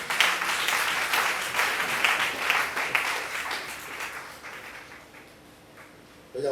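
A church congregation claps and cheers loudly during a Sunday service, with dense, sustained applause that fades toward the end before a brief burst returns.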